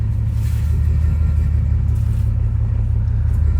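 A Porsche car driving slowly out to a pole barn, a loud, steady low engine rumble with road noise heard close from inside, unbroken throughout, no voices.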